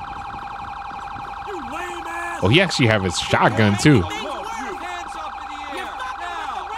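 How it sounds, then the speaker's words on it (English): A police car siren in a modded GTA 5 game wails, cycling steadily in the background while someone talks briefly over it, the tone continuing after the voice stops. "that's probably my siren still going off right now"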